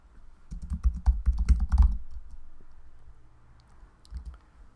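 Someone types a name on a computer keyboard, a close, quick run of key clicks lasting about a second and a half. A few scattered taps follow after a pause, and there is no speech.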